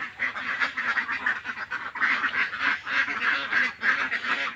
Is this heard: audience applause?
no